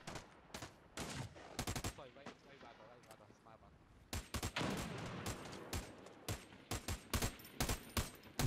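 Rifle fire in the video game America's Army, aimed through a wall, comes as sharp, close bursts in irregular clusters, with short quiet gaps between volleys.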